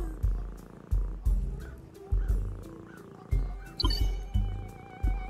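A cat in the Ben 10: Power Trip video game lets out a series of repeated growling, roaring cries in a steady rhythm, close and fairly loud, with a few brighter squeaky sounds mixed in.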